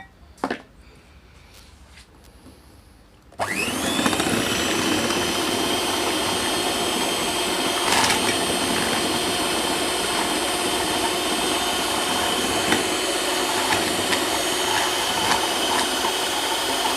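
An electric mixer whirs steadily as it blends sugar and milk for a chocolate iced drink, starting abruptly after a few seconds of quiet and running loud and continuous to the end, with a few small clatters over the drone.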